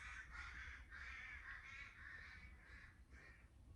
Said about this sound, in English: You hear the crows squabbling out there?